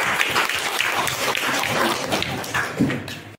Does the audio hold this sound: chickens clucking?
no